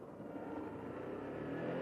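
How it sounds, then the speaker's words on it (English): Motorbike engine braking after a downshift, a low, steady drone that swells slightly, faint and continuous with no talk. "Because I released the actual clutch, the engine starts to brake."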